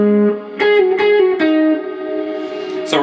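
Overdriven electric guitar plays a lead line standing in for a synthesizer part in a worship pop song, with sliding and pulled-off notes, a few sharp picked attacks and sustained bends, loud and close with no voices.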